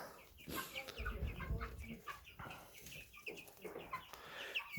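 Hens in a backyard flock clucking softly at close range, a series of short, irregular murmuring clucks and brief calls over quiet surroundings.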